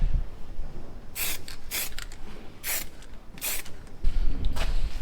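Several short hissing bursts of spray paint, spaced irregularly, with quiet rustling in between.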